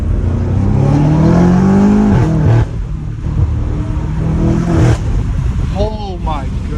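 A BMW M5 Competition engine fitted with new downpipes revs loudly and roughly up close, rising and falling in pitch, with a voice talking over it.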